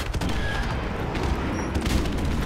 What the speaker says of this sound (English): My airstrikes do their thing.